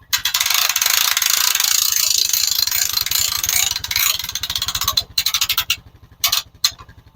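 A ratchet winch on a log arch, used in the forest with a portable sawmill, clicks in a loud, fast, steady pawl rhythm, then slows into a few separate bursts of clicking near the end.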